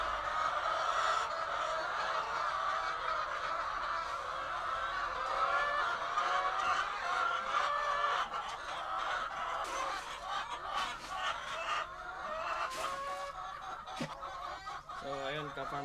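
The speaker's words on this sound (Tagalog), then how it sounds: "Dito naman tayo sa layer house, no? Magpakain tayo tsaka magkolekta ng itlog." Many hens in a poultry layer house at feeding time, a busy continuous chorus of clucks and squawks close by, with a few sharper calls and clatters toward the end.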